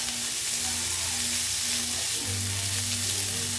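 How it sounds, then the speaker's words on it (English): Soy sauce hitting hot fried rice in a pan, a close, steady sizzle and hiss with a low hum beneath, continuous and loud throughout. "I'm going to add a teaspoon of soy sauce"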